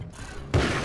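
Single booming hunting rifle shot in the video game Alan Wake's American Nightmare, a loud low thump that cuts in abruptly and rings out over a quiet background.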